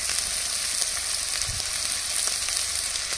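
Onion paste and spices sizzle steadily in hot oil in a pan while a Bengali stuffed pointed gourd dish is cooked, a loud, continuous bright hiss with no pauses.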